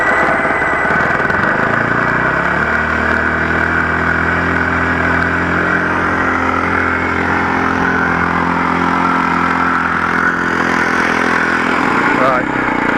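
A model Fokker Triplane engine runs continuously at close range, a loud buzzing drone that holds steady and shifts slightly in pitch as the throttle changes, with people talking nearby.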